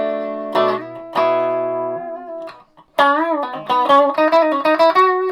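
Distorted electric guitar in drop B tuning playing sustained chords, a pause, then a run of punchy, chugging notes in an uneven rhythm, loud and close.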